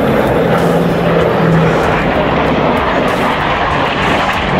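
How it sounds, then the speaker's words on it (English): Loud, continuous aircraft roar at an airshow as an ME-262 jet passes with P-51 propeller fighters in pursuit, a broad sustained rumble filling the whole stretch without a break. "Now, by the ME-262 with P-51s in pursuit."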